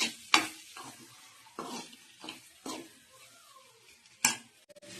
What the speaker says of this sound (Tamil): போட்டு நல்லா ஃப்ரை பண்ணணும்.